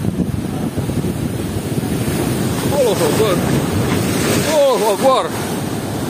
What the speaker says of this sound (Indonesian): Ombaknya mantap.